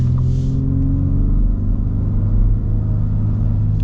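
A loud, deep EcoBoost engine rumble builds steadily as a Ford Raptor pickup accelerates, filling the clip with a continuous low roar.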